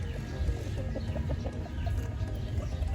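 A Kelso x Sweater gamefowl rooster clucks softly in a farm yard, with short, scattered clucks over a low, steady background hum.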